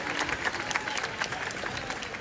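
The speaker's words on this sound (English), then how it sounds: "Yes, round of applause." Audience applause fills a convention hall during a Twilight panel at Comic Con Midlands, with steady, dense clapping from a crowd that carries on without a break for the whole stretch.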